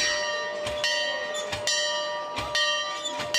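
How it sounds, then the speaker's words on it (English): A campus bell is rung repeatedly and loudly at a college football rivalry game, heavy clangs arriving every second or so with long ringing tones between them, no talking. "you're wondering about who's ringing that bell and what they're doing?"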